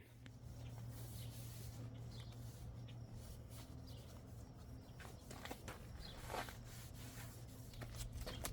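Rust-Oleum 2X white spray paint applied along a camper seam, soft hissing bursts of varying length over a steady low background hum, close and fairly quiet.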